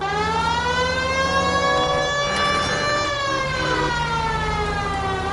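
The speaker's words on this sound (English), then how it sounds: "Put the siren on!" A police car siren in the L.A. Noire video game wails continuously, loud and close, its rising and falling tone steady for the whole stretch over a low engine drone.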